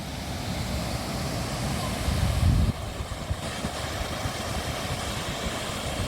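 Ratanwadi waterfall in full monsoon flow, heard as a constant broad roar of rushing water, steady and fairly distant, with a brief louder surge partway through.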